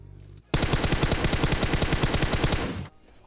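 Rapid automatic gunfire from the shooter game PUBG Mobile rattles out in a single loud, close burst lasting a little over two seconds, with evenly spaced shots before it stops abruptly.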